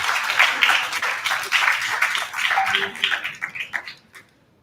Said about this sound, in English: With a big round of applause, please join me in warmly welcoming Dr. Nema